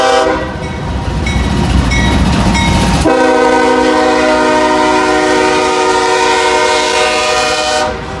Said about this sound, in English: Could be a grain train.